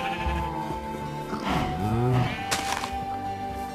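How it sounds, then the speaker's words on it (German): A Minecraft sheep gives a wavering bleat near the middle over a steady background of game music and ambience, with a second faint bleat just after it. "Die Schafe brechen zwar aus, aber bevölkern damit unsere Wiesen hier unten wieder."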